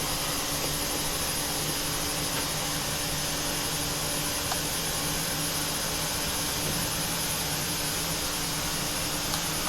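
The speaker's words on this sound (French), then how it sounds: "Le moteur ici est en route, comme convenu." Steady whine and roar of an ERJ 170/175 jet engine running in Microsoft Flight Simulator 2020, an unbroken, even tone with a high-pitched hum and no talk.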